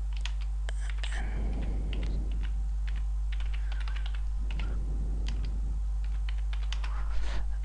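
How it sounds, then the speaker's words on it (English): Computer keyboard typing while entering a mod name for Silent Hunter 5, a steady stream of light, quick key clicks at close range, with no voices. "So I will type just I know the name mod"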